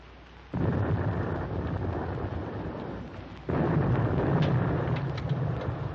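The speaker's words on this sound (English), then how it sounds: "Our escort must be dropping depth charges." Depth charges from a 1944 war film go off as two deep, rumbling booms about three seconds apart, each swelling into a long, heavy roll with no voices over them.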